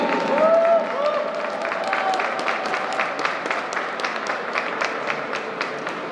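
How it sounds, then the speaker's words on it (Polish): A crowd applauds steadily in dense, continuous clapping at a youth hockey championship closing ceremony, with a voice briefly audible near the start. "jeszcze raz wielkie brawa"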